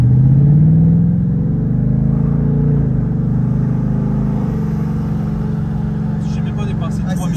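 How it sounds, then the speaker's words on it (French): A 2024 Mustang GT's engine pulls steadily under acceleration with its exhaust in track mode, a loud sustained drone rising in pitch, with someone speaking over it throughout. "J'ai aussi l'échappement en mode piste et le groupe d'instruments en mode piste."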